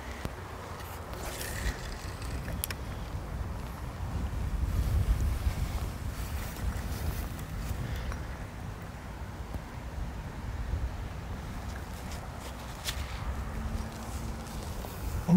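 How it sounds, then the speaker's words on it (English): Steady wind gusts over open water while out fishing, a broad continuous rush that swells and eases throughout, fairly close with no talk. "It's windy, I'll tell you that."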